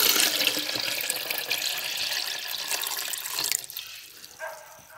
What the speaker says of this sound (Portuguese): Vamos acrescentar a água.